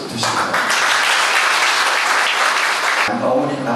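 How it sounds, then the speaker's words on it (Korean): At a joint wedding ceremony, the audience breaks into loud, dense applause that lasts a few seconds and then cuts off sharply. An announcer speaks through the clapping. "큰 박수 주시기"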